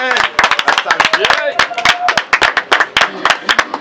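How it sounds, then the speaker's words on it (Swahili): Clapping and cheering from a crowd at the opening of new NG-CDF government offices, a steady, dense run of loud claps over the whole stretch with voices calling out underneath. "Haya, makofi shangwe."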